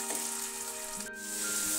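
Chopped chillies, tomato and capsicum fry in a pan for a vegetarian paneer dish, giving a soft, steady sizzle with a brief stir or clink partway through.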